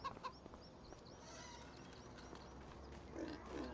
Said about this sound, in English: So you start off with pigs and chickens